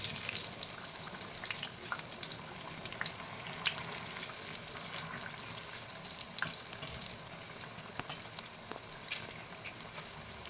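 Chilli bajji fry in hot oil, a dense, steady crackling sizzle with scattered sharp pops and occasional stirring scrapes, close and continuous with no talking.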